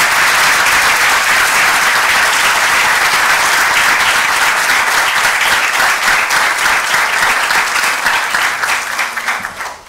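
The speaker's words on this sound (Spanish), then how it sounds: "le brindemos un fuerte aplauso a la señora defensora" Sustained audience applause at an inaugural university lecture, loud and dense with many hands clapping steadily for nearly ten seconds before tapering off at the end.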